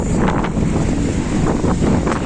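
Strong, hot wind buffets the microphone in a steady, loud roar with gusty swells in Mindelo, Cape Verde, no voices.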